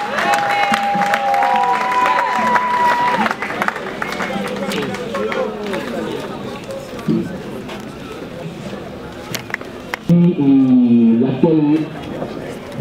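A crowd applauding and cheering for Jesus Christ at a funeral gathering, sustained clapping and voices forming a dense wash under someone talking over it, with whistle-like tones early on and a louder sung or shouted passage near the end.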